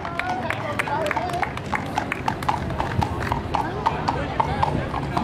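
Horse hooves clip-clop steadily along a street during the Henry Lawson parade in Gulgong, a brisk run of sharp hoof strikes at moderate distance over crowd murmur and voices.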